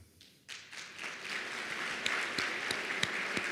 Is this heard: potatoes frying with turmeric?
no